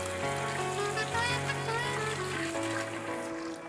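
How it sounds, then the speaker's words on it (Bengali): Water runs steadily and close by from a kitchen tap while hands are rinsed under it during home cooking of semolina pakoras, a continuous splashing stream. "এখন আমি একটু হাতটা ধুয়ে নিচ্ছি।"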